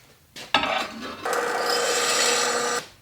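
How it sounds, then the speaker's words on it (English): A drill bores holes in metal for a PortaBand table, giving a brief start-up burst and then a steady, close, high-pitched grinding whine that stops abruptly. "Now we'll go ahead and drill them."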